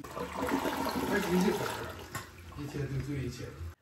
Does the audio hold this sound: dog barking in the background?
no